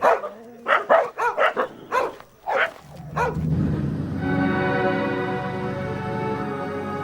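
Dogs in a Sundarbans village bark at a fake tiger, giving a quick run of about eight sharp, loud barks close by, followed by a sustained, steady droning tone with no talk.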